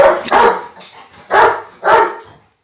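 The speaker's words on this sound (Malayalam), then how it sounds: "ഇവന്മാർ കിടന്ന് കുരയ്ക്കും" Dogs bark loudly and close by at a home, four sharp barks in an uneven rhythm with brief gaps, no talking.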